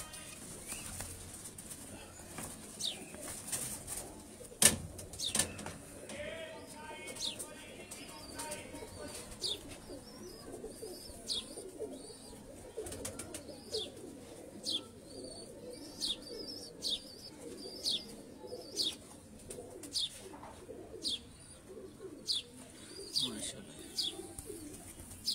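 Domestic pigeons coo softly and repeatedly in a loft while wings flap in brief bursts, along with faint chirps and some quiet background talk.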